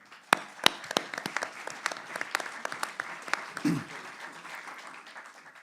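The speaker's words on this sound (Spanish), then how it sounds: "Otro aplauso para él." A small audience at a talk on the 1973 constitutionalist armed forces officers claps sparsely. Distinct individual claps come at an uneven rhythm, then thin out and fade toward the end.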